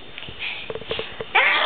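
A single short, sharp sneeze bursts out near the end, close and fairly loud, after a stretch of soft, scattered household noises on a bed.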